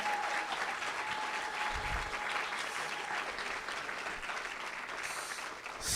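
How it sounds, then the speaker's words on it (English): Audience at a council meeting general assembly applauds continuously, a dense wash of clapping from a large crowd that holds steady for several seconds, moderately distant, with a brief tonal feedback hum early on. "A round of applause for LG Baku."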